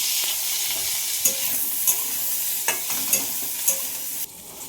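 Pointed gourd (potol) frying in a little oil, a steady close sizzle broken by several sharp scraping stirs of a spatula against the pan, then quieting at the end.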